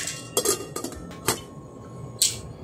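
A metal pot lid clatters back onto a cooking pot of shrimp sinigang with radish, giving several close clinks and rattles as it settles, then one final bright clink.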